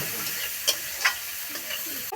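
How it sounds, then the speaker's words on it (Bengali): Prepared food pieces fry in a pan and are stirred. A brief, steady hiss carries a few light clicks from the stirring. "এগুলো এখন আমি ভাজি করব, ভালো করে লাল লাল করে আমি ভাজি করে নিব।"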